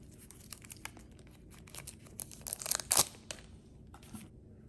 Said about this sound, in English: This can be done easily by pulling the plastic strip